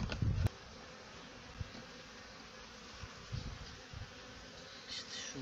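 Honeybees buzz steadily around hive comb, a dense continuous drone with a brief louder knock at the start and small shifting swells as the insects move nearby.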